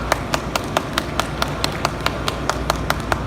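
Crowd clapping at a memorial rally marking the tenth anniversary of the Yongsan tragedy, heard as a quick run of sharp, evenly spaced claps over a low murmuring background.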